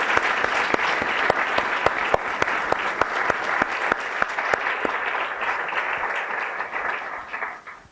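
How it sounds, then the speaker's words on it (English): An audience at a Washington and Lee lecture event gives a sustained round of applause, dense and steady clapping from a crowd that thins and fades out near the end. "Please join me in giving these fellows a warm Washington and Lee round of applause."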